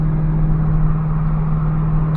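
A Ford Mustang PP2 engine runs steadily in heavy rain with a strong low hum, heard close from inside the car.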